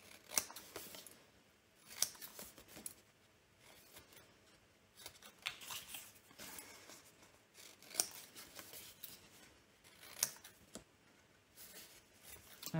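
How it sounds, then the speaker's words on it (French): Scissors cutting diagonally through white scrap paper for a small accordion craft album, a quiet close-up series of crisp snips spaced irregularly with soft paper rustle between them and no talking. "Et là, par contre, on va venir couper en biais."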